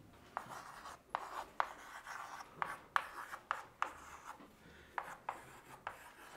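Chalk or marker strokes on a board during a classroom lesson on the ideal gas equation, a series of short scratchy taps and rubs in an irregular rhythm, close and fairly quiet.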